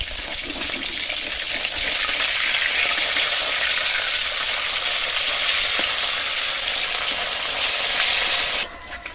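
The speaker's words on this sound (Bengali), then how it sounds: "মাছগুলো এরকম লাল করে ভেজে নিয়েছি," Flipped fish fries in mustard oil, giving a steady close sizzle and crackle with faint stirring, running for several seconds before cutting off abruptly near the end, no talking.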